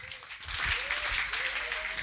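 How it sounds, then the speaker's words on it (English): Audience applause at a Red Bull Music Academy event in London, 2002, a dense steady round of clapping from a crowd that fills the whole stretch, loud and sustained. "Give yourself a round of applause."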